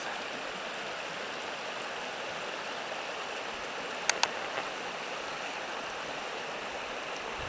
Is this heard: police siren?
no